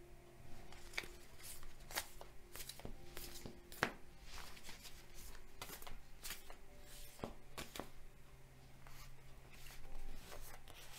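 Soft riffling and shuffling of a tarot card deck close by, a series of quick papery flicks and slides at uneven intervals, faint and with no talk.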